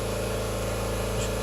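A 2009 Subaru Outback engine held at slightly raised RPM, a steady close-up hum with a constant low drone and even mechanical texture throughout, no talking.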